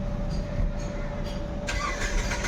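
A Nissan Micra with a fuel delivery fault cranks repeatedly without firing, giving a steady, close, mid-pitched churning whir that holds for the whole short stretch.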